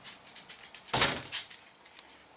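An RV shower stall door being worked off its frame gives a single loud clunk and rattle near the start, then fades to a few faint knocks and a small click.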